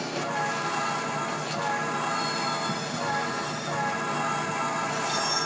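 A Conrail freight train with SD70-series locomotives rolls along in the Trainz video game, giving a steady, moderately quiet rumble of wheels and rail noise with no voices.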